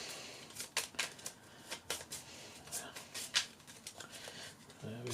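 A deck of cards from the Undaunted: Stalingrad board game being shuffled on a tabletop, a run of quick riffling clicks and soft slaps at close range, fairly quiet, with a few sharper snaps.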